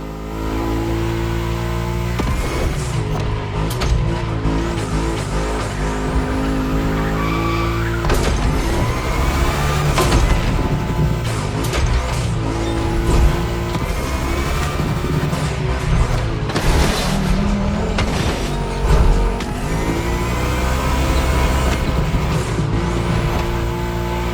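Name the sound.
Volkswagen race cars drifting on track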